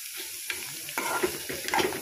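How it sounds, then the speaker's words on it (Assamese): Sliced onions sizzling in hot oil in a pan for a fish roe dish, with a few quick scraping stirs of a spatula over the steady crackle, close and fairly quiet. "তেলখিনি গৰম হৈ গ'ল পিয়াজখিনি দি দিম এতিয়া পিয়াজখিনি দি দিলোঁ পিয়াজখিনি অলপ লৰাই দিছোঁ"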